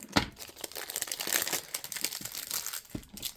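A plastic shipping bag from a nail art order is cut open, with close crinkling and crumpling plastic and a few sharp rustles.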